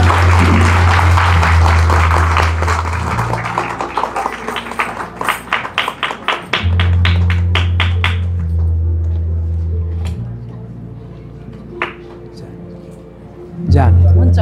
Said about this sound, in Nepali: जसै उहाँहरूले बाल्नुहुनेछ हामी ताली बजाएर स्वागत गर्नेछौँ।